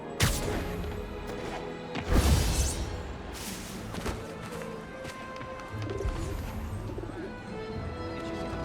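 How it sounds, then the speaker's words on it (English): Pigeons cooing in a Spider-Man video game, soft repeated coos mixed with game effects, scuffs and a few thuds, at moderate level. "I'd better scan some pigeons to make sure."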